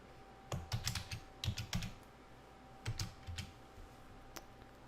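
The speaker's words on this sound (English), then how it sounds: "And I'm going to type text 1." Quiet bursts of computer keyboard typing while entering text into a presentation slide, short clustered runs of key clicks separated by pauses, close and soft with no speech.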